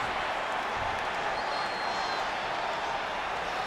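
Arena crowd in WWE 2K20 roaring during a wrestling match, a steady, loud wall of cheering and applause with no break.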